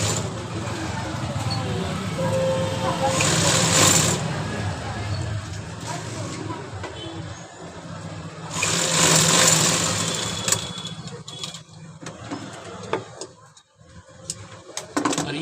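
A sewing machine stitching a dhoti salwar whirs in two rapid bursts of a few seconds each, with quieter handling sounds and someone talking in between.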